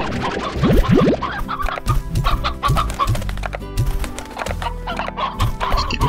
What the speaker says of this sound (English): Let's pick up some chickens.